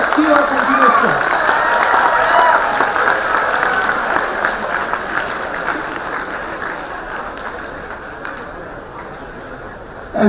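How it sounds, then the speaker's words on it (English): Sustained audience applause at a fintech conclave event, loud and steady for about ten seconds before gradually thinning toward the end, with a few voices mixed in. "Can we have a round of applause?"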